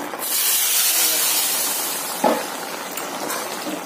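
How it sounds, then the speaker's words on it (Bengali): Whole spices hit hot oil on a gas stove with a loud, bright sizzle that slowly settles, a small spatter popping midway. "এখন দেখো একটু ফোড়ন দিয়ে দিচ্ছি"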